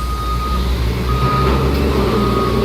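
A big goods truck idles loudly nearby while its reversing alarm beeps steadily over the low engine rumble, with no talk.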